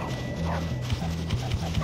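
Dog barking repeatedly in the video game Bully, a steady run of short barks over a constant low game hum, with a faint skateboard roll underneath.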